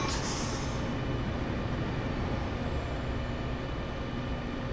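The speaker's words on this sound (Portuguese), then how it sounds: "Olha o trem aí, ó." A commuter train rumbles steadily in the Train Sim World 2 game on the Peninsula Corridor in California, a continuous loud low engine and rail roar with a brief hiss at the start and no talk.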